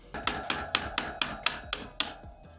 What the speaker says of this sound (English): take a scrap piece of wood and a hammer or a rubber mallet and tap that through axle all the way in